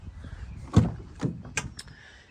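Door of a 2022 Ram 5500 truck being handled, with several distinct clunks and latch clicks spaced over about two seconds, close and moderate in volume.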